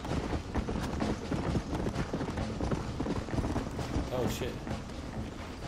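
Horse hooves gallop in a rapid, steady clip-clop through the Western video game Red Dead Redemption, moderately loud under a dense wash of game noise and motion, with no clear talk over it.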